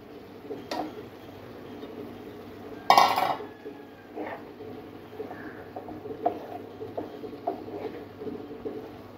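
Fried cauliflower is tipped into a pan of boiling masala and stirred, with a clattering tip early on followed by scattered scraping and clinking of a spoon against the pan.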